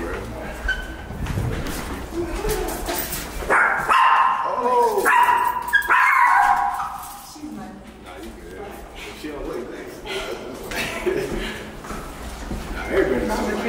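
A dog barks repeatedly at varied intervals, fairly close, mixed with people talking and casual outdoor chatter throughout.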